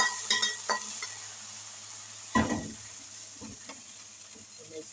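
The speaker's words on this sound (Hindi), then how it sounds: "मैं इसे अच्छी तरह से यहाँ पे मिक्स कर दूँगा हलीम के अंदर" Browned fried onions are stirred into a pot of haleem, giving a soft ongoing sizzle with a few spoon scrapes and knocks against the pot, one louder clatter midway.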